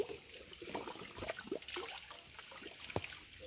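Water from a spring outlet in a Brazilian mountain range trickles and gurgles softly outdoors, faint and irregular with small splashy bursts.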